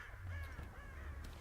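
Crows caw in the video game Rise of the Tomb Raider, a few harsh calls repeating in quick succession at moderate distance, alone without talk.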